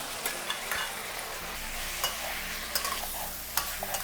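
Beef stir-fries for mala beef with a constant sizzle, a low burner rumble and scattered sharp clacks of a utensil against the wok; no voices.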